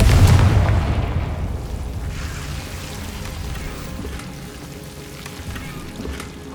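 A Confringo blast spell explodes in Hogwarts Legacy with a loud, booming burst at the start, then a rumbling, crackling tail that slowly fades over several seconds, with no voices.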